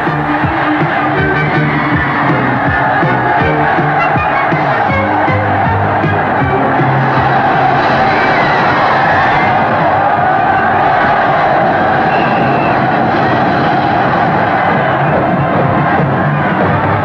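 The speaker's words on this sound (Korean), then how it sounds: "열광적인 응원단의 함성" A large crowd of supporters roars continuously at a 1982 Korea University ice hockey game, a dense, loud wash of cheering and shouting that never lets up across the whole stretch.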